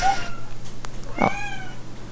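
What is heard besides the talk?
pet cat meowing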